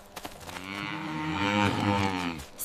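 A cow in a Kazakh cartoon lets out one long, loud, drawn-out moo that swells in the middle and fades near the end, heard alone.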